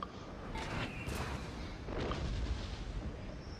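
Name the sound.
artillery fire in the video game Napoleon: Total War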